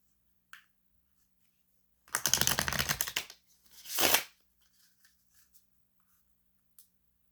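A brisk riffle of tarot cards being shuffled, followed by a softer sliding swish as the deck is squared, with a few light taps around it in a quiet room.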